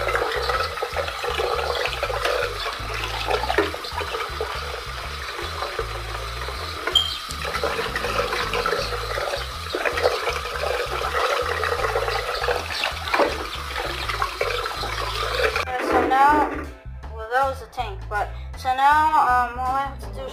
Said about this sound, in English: I'm gonna fill it up, rinse it off a bit